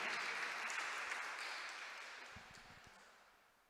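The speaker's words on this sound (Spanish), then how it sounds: "Denle un aplauso a Dios" A church congregation applauds at a worship service, a dense wash of clapping that fades steadily over a few seconds, with a few low thuds near the end.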